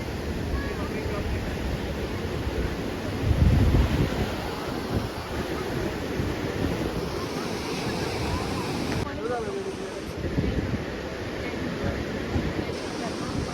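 Sea waves wash steadily against the Dwarka shore in a broad, continuous roar, heavy with wind buffeting the microphone, while people talk faintly nearby.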